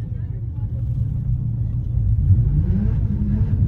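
A car turns around on a road near an autoshow in Islamabad, its low engine rumble steady at first and then rising and swelling in the last second or so, fairly close.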